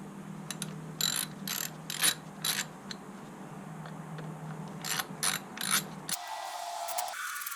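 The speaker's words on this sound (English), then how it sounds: "5/32 Allen socket, and we crack the derby cover bolts loose." A ratchet with a 5/32 Allen socket cracks loose the three derby cover bolts on a 1988 Harley-Davidson Softail, giving several short bursts of clicking in close succession, then a brief scrape and clatter near the end.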